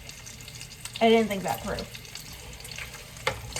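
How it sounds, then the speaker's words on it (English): Bacon sizzles and crackles steadily in a hot frying pan at close range in a home kitchen, a constant hiss that keeps going under a person talking. "Hopefully you can hear me over the sizzling bacon."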